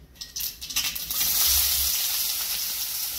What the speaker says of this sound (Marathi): आता आपल्याला त्यामध्ये कांदा ऍड करायचा आहे.